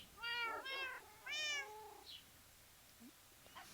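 Cats in Minecraft give three clear, close meows in quick succession, then fainter scattered game sounds fill the quiet afterward.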